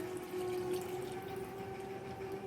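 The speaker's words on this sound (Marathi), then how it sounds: "त्यामध्ये पाणी ॲड करायचं." Water trickles steadily into a pan while Malvani kulith (horse gram) pithla cooks over a medium flame, a soft continuous pour with a faint tonal hum beneath it.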